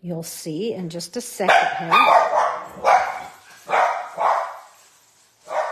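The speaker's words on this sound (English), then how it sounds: "Oh, I apologize about the dogs." Dogs in a home barking at construction workers in the backyard, several loud sharp barks and yips in close bursts, mixed in with someone talking nearby.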